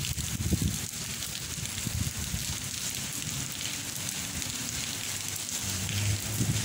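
Heavy afternoon rain shower pouring in La Glorieta park in Caibarién, Cuba, a steady dense hiss of falling water with low rumbling underneath, constant and loud throughout.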